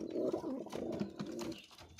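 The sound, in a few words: pigeons cooing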